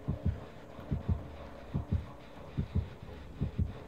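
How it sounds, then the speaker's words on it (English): Heartbeat effect from the Dead by Daylight video game, a steady series of paired low thumps, about five beats in four seconds, alone without talk. "Still got a heartbeat."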